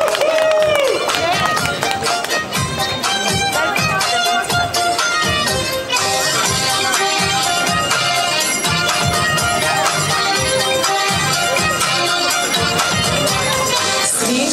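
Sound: audience applauding at a Christmas carol concert

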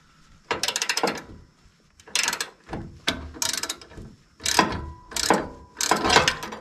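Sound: ratchet being used on a truck lift kit bolt

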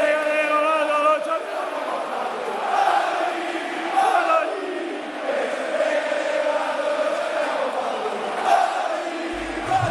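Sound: stadium crowd erupting after Padoin's goal

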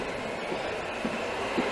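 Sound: metro subway train

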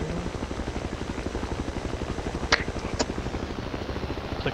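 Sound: helicopter in video game Battlefield 2

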